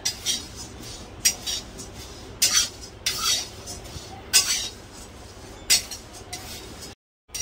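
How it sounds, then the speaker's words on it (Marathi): Poha (flattened rice) dry-roasts in a pan, heard as a soft dry rustle broken by irregular metallic scrapes and clinks of a spoon stirring, fairly close, ending in a brief silence. "आता पोहे भाजून घ्यायचे. पोहे साधारणच भाजायचे थोडेसे."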